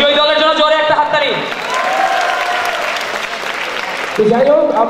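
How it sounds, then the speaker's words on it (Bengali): At a university CSE Day event, an audience applauds a winning treasure-hunt team, broad clapping rising in the middle while voices talk and call out loudly over it at the start and end. "বিজয়ী দলের জন্য জোরে একটা হাততালি।"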